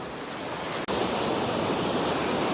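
Sea waves wash steadily against the rocky coast along a seaside cliff trail, a continuous loud surf roar with a brief dropout near the start, and no voices.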